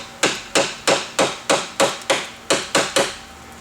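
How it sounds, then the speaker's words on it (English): A tool is tapped into the gap between the top of a Vandersteen Classic speaker and its cabinet top, ten sharp close taps in a quick, even rhythm with nothing else heard. "insert it between the top of the speaker and the bottom of the top, and just tap it in"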